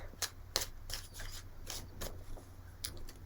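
Tarot cards are shuffled by hand before a reading, giving quiet close riffling and flicking with a few sharper snaps over a faint steady hum and no voices.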